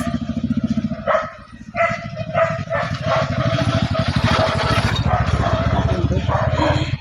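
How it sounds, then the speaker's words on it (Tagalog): Dogs barking during a walk to the market, several sharp repeated barks and yips up close over a busy outdoor background with a motorcycle-like engine hum. "Ano naman to mga aso?"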